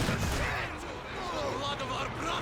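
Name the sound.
quad machine gun burst in the video game Company of Heroes 2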